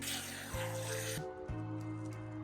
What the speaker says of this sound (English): I'm gonna try sealing it all up with some spray foam